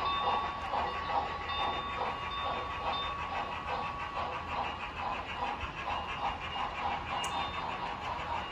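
An HO scale model Northern Pacific freight train runs on a layout, giving a steady, fairly faint rumble with repetitive wheel clicking throughout and no talk.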